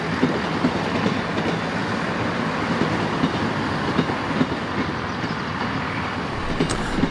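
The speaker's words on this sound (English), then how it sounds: "That's the 1239 from Newcastle that you hear just approaching the citadel." A train from Newcastle rumbles in toward Carlisle Citadel station, a steady loud roll with rhythmic wheel clicks over rail joints throughout, no voices.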